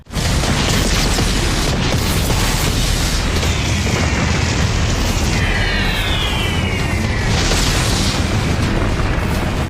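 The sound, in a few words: bombs exploding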